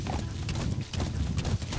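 A horse galloping in the Metal Gear Solid V video game, its hooves thudding in a rapid continuous clip-clop rhythm, loud and dense throughout.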